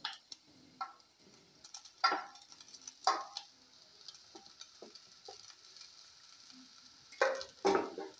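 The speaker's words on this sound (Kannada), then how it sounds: "ಇವಾಗ ನೋಡಿ ನಾನು ಒಂದು 200 ಗ್ರಾಮ್ ಅಷ್ಟು ಬಾಸ್ಮತಿ ರೈಸ್ನ ಹಾಕ್ಕೊಳ್ತಾ ಇದ್ದೀನಿ" About 200 grams of basmati rice goes into a pan of frying vegetables, giving a quiet background sizzle broken by several sharp scrapes and clinks of stirring at irregular intervals.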